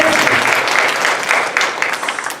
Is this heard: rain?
no